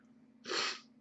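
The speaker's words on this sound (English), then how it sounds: "I felt like a sneeze." A single sharp human sneeze bursts out loud and close after a quiet moment of low background hum, then fades quickly.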